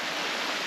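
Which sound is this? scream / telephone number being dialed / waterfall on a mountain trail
waterfall on a mountain trail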